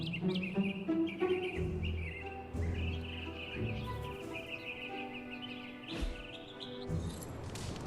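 Birds chirp and tweet steadily in Marvel's Midnight Suns, a dense layered chorus of calls over ambient game background with no talk.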